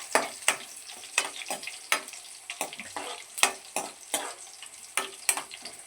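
Tempering seeds spit and pop in hot oil in a pan, a steady crackling sizzle broken by sharp repeated bursts, close and fairly loud with no talking.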